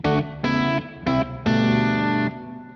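James Tyler Dann Huff Black Classic electric guitar with its middle pickup switched to series, played through effects with chorus and distortion. Four sustained chords ring out close and loud, the last held longest, with no voices.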